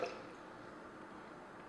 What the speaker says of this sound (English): I'm going to put 2 cups of filtered water into my Vitamix carafe.